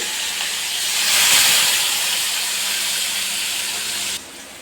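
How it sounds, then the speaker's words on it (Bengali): Onions frying in hot oil in a pan, a loud steady sizzle and hiss that swells early, holds, then drops sharply near the end, with no voices. "পেঁয়াজগুলো এখানে ভাজা ভাজা হোক"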